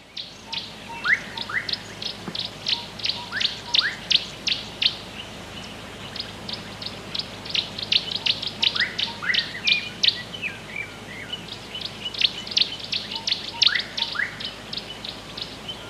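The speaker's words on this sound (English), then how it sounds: "a special visitor made an appearance, the orange-breasted bushshrike" Orange-breasted bushshrike calling repeatedly from a bird hide in the Umfolozi section of a South African game park, bright rhythmic whistled phrases at close range over a steady insect hum.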